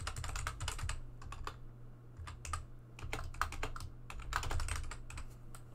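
Rapid bursts of keystrokes on a computer keyboard while code comments are entered, irregular clusters of clicks with short pauses, close and clear over a low steady hum, no talking.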